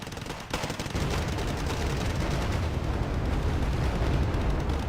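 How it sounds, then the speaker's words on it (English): A Tigra rocket launcher firing during an infantry battle in Wargame Red Dragon, a dense, continuous roar of rapid rocket blasts and gunfire that holds loud and steady after a brief lull. "Tigra firing its rockets"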